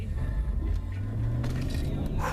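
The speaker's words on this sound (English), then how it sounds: "Oh my god! That wasn't even full throttle." Car accelerating hard from a start, low engine drone climbing and sustained close up for about two seconds, not at full throttle, with a brief voice over the engine.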